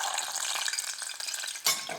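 Capers spitting and crackling as they fry in hot oil for Danish smørrebrød, a close, continuous dense sizzle with a sudden louder burst of spattering near the end.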